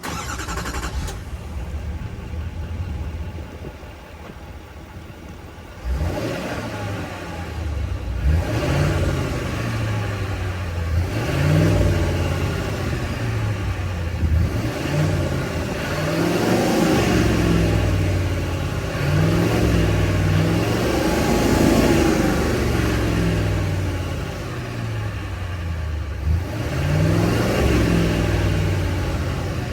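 A 2023 Chevrolet Silverado 3500 heavy-duty dually with the 6.6-liter Duramax V8 turbo diesel starts up, then idles and revs in repeated swells of deep, loud engine rumble close to the listener.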